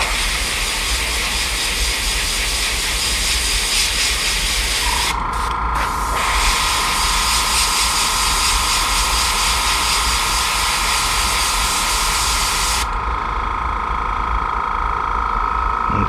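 Continuous airbrush hiss spraying paint onto a black crappie fishing lure, steady and close, with brief pauses in the spray near the middle and a slight change in tone toward the end.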